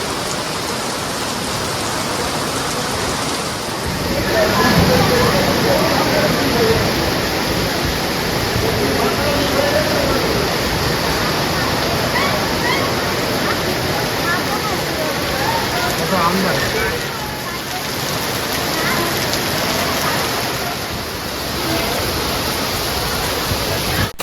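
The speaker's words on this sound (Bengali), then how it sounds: "প্রবল বৃষ্টির মধ্য দিয়ে আমরা আবার ঘিরে যাচ্ছি ভালোই বৃষ্টি হচ্ছে" Heavy rain pours down in a steady, dense roar that continues without a break throughout.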